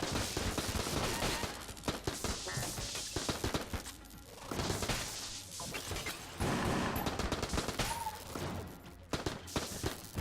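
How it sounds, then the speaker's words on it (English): Tommy gun firing in the video game Enter The Gungeon, dense rapid bursts of gunfire mixed with impacts and crashes of game combat, continuous and busy throughout. "I'm just going to keep using the Tommy gun for the time being."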